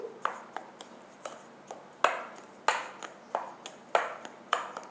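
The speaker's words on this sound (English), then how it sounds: "just mix it with a spoon" A spoon stirs raw semolina in a bowl, giving a regular series of clinks and pings, about two per second, close and crisp against a quiet background.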